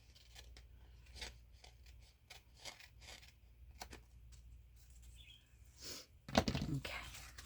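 Scissors snip through paper party supplies in a series of short, quiet cuts and rustles, with a louder burst of paper handling near the end.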